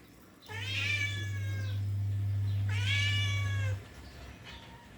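A cat meows twice, each call long and clear, close by in a quiet kitchen, with a steady low hum running underneath.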